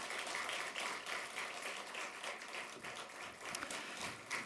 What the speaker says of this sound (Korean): 우리의 마음을 담아서 나 대신 섬겨주신 분들에게 감사와 격려의 박수 한번